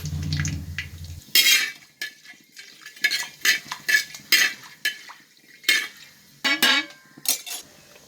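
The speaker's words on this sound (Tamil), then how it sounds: "பட்டை, சோம்பு, ஏலக்காய் வதங்கிட்டு இருக்கு இறால் பிரியாணி செய்யறதுக்கு." Cinnamon, fennel and cardamom stirred in ghee and coconut oil in a pot for prawn biryani, heard as intermittent spoon scrapes and metallic clinks against the pan with only faint sizzling between.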